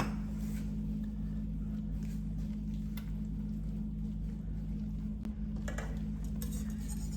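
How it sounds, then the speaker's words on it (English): Thickening homemade jelly is stirred in a pot on low heat, a steady close scraping and swishing over a constant low hum, with an occasional light clink of the utensil. "I'm just gonna go ahead and keep stirring that a little bit."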